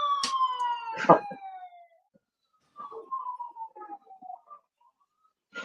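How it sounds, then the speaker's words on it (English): A siren-like wail sweeps downward in pitch, fades out, then comes back for a second, quieter descending wail. Brief chirpy sounds are mixed in. "Siren be like, but it wasn't me"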